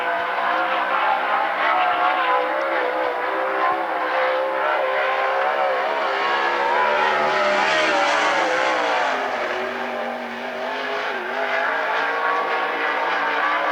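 Winged sprint car with a Barnyard Racing Engines motor and Triple X chassis on a qualifying lap at the Central Washington State Fair, a loud sustained high-revving roar that swells and dips slightly as it circles the track, no talk over it.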